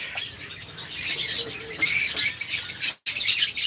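Lovebirds at a bird farm give dense, continuous high chirps and squawks from many birds at once, fairly loud and close, with a brief pause near the end before the chatter resumes.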